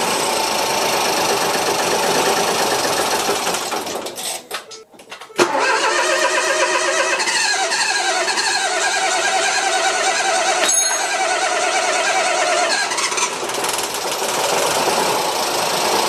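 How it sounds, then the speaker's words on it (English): A Ford Fiesta 1.0 EcoBoost, just fitted with a replacement engine and low on fuel, cranks on its starter in a loud continuous whirring churn, briefly stopping before cranking resumes for a long stretch. "Try starting it just as normal. Right, keep trying it. It's just taking a while to get the fuel back in."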